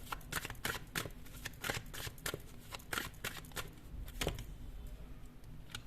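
Tarot cards are shuffled, flicked and set down on a surface in quick, irregular bursts of soft papery slaps and riffles. The handling is close but quiet.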